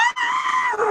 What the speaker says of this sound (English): puts her face in a throw pillow, muffling a frustrated scream